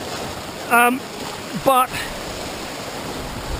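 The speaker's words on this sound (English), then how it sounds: "there is a bit of a chop on the water now" Choppy sea water washes steadily at the shore, a constant rushing wash heard close by while a voice speaks two brief words over it.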